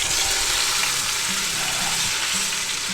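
Meat for a pot roast searing in an Instant Pot on the sauté setting, making a loud, continuous, even sizzle with no break.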